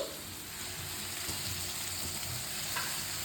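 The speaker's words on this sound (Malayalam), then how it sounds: "കുറച്ച് ഇഞ്ചിയും വെളുത്തുള്ളിയും പേസ്റ്റും ഏതേനെ, കുറച്ച് ചെടിയെണ്ണയും ചേർത്ത് ഇളക്കാമേ." Ginger garlic paste fries in vegetable oil while being stirred, a close, continuous sizzle with soft scraping movements and occasional small pops underneath.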